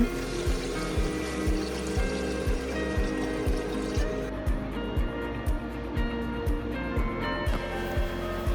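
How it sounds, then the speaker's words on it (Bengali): Water poured into a pot of khichuri rice and spice mix, a steady close trickle and splash running under a low background hum, with no talk. "এখানে আমি পানি অ্যাড করব পরিমাণ মতন"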